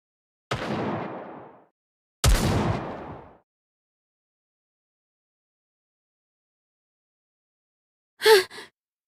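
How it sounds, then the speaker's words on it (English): Two loud, sharp gunshots about two seconds apart, each ringing off with a decaying echo, followed by long silence and a brief short sound near the end. "Those gunshots."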